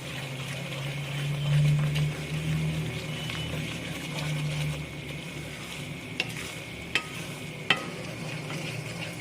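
Thick semolina halwa cooking in a kadai while being stirred, a low steady sizzle with soft scraping strokes, followed by a few sharp spoon clinks against the pan toward the end.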